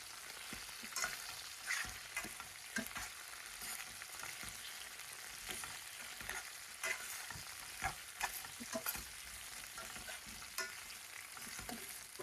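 Eggplant sizzles and fries in oil in a pan on a stove, a continuous close crackle broken by occasional stirring scrapes, with no talking.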